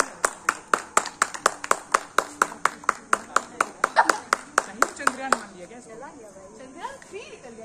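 Rapid, evenly spaced hand claps from a small group ring out sharply for about five seconds, then stop and give way to chatter and talking.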